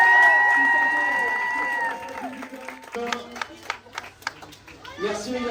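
Outdoor crowd applause at a motocross race podium after a muddy race, scattered claps and cheers rising under an amplified announcer's voice and music, with individual sharp claps standing out toward the end.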